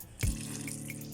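Purified water is poured into a mixing container while making homemade dishwashing liquid, a sudden close splash followed by a steady rushing flow.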